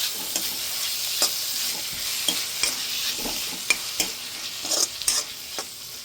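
Banana flower vegetable being stirred and sautéed in masala in a pan, with a steady sizzle and frying hiss under repeated soft scrapes of a spoon, close and continuous.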